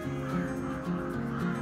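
Common raven calling with a few low, hoarse croaks spaced across a short stretch, moderately close, with no talk.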